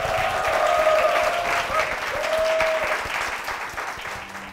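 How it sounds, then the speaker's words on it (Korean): A church audience applauds two worship singers, steady sustained clapping from a crowd that gradually tapers off, with faint voices in the background. "앞으로도 정말 힘있게 찬양하시는 두 분 되실 수 있도록 축복의 박수 부탁드립니다"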